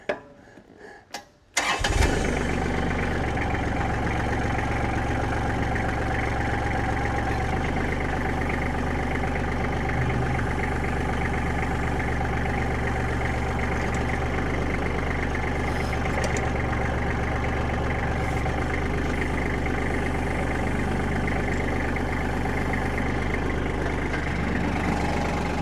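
A compact tractor fitted with an Eastonmade MS 324 cranks briefly, catches and then runs at a loud, steady idle close by for the rest of the clip, with no talking.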